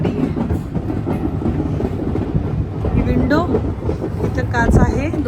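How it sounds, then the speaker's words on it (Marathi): An old all-wooden steam railway carriage on the Isle of Wight rumbles steadily along the track with clattering and squealing wheels, while a person speaks over the continuous noise. "ही जी ट्रेन आहे हा पूर्ण लाकडी बोगी आहे"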